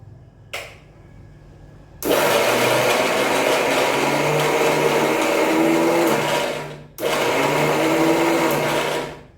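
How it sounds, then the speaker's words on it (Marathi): Kitchen mixer grinder blending tomato chutney: a short whir, a pause, then a long, loud, steady motor whine that dips briefly and starts up again. "चला मिक्सरच्या भांड्याला लावूया."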